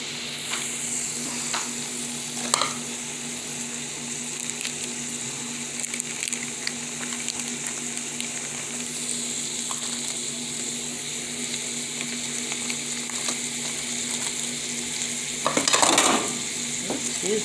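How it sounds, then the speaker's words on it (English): Chopped beef and onions sizzle steadily on a hot griddle for a chopped cheese sandwich, a constant bright crackle with occasional scraping clinks of a utensil, no talking. "Everything is caramelized, sizzling."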